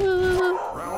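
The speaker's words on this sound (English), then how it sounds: "the dogs are barking" Dogs barking at a door at 7 p.m. on a Monday: one loud, close, tonal bark or yelp that lasts under half a second, then a fading tail, with no other sound.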